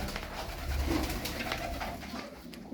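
Black-winged bango pigeons coo softly nearby, a few low throaty calls over a background of light rustling and ambient noise.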